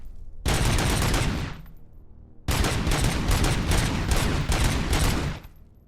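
A gun in the video game Robocop: Rogue City fires in loud bursts: one rapid volley, a short pause, then a longer run of repeated rapid shots before it stops.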